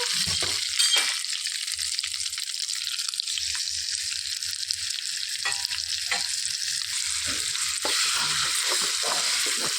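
Loud, continuous crackling sizzle of fenugreek leaf chutney frying in hot oil tempered with dried red chilies and curry leaves, steady throughout with occasional bubbling pops.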